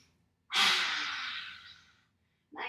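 A single deep, forceful exhale imitating a dragon's fire breath, a long hissing whoosh lasting about a second and a half that fades out, followed by the start of another breath.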